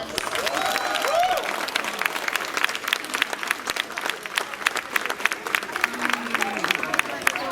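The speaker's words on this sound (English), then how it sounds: "Let's give them another round of applause." A crowd at an outdoor Dia de Portugal celebration in Lowell, Massachusetts applauds, crisp sustained clapping with scattered cheers and whoops rising above it and faint background chatter.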